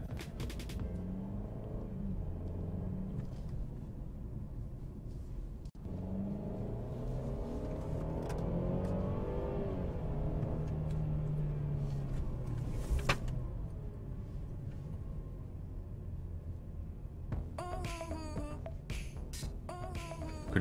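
A 2018 Mercedes-Benz E300 engine revving at high rpm, heard from inside the cabin as a steady muffled drone that climbs in pitch, with no talking.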